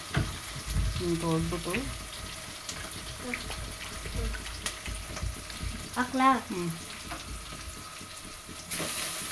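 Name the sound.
onions frying in a pan for pulao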